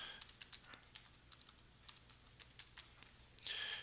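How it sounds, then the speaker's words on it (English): A password being typed on a computer keyboard, with quiet, close key taps in an irregular run ending in a brief louder clatter. "So we're going to type in this password."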